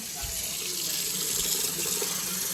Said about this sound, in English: just rinse it with a little water